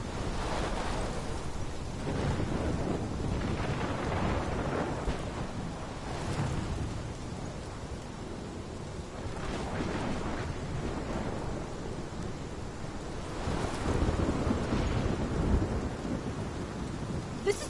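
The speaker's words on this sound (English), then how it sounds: "This is my storm." Steady rain pours in a Life Is Strange thunderstorm while deep thunder rumbles swell and fade again and again over nearly eighteen seconds, with no one speaking.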